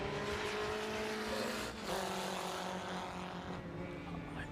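Race cars at Hallett Motor Racing Circuit during an SCCA Super Tour qualifying session, engines roaring loud and steady as cars pass on track, with pitch shifting as one car goes by.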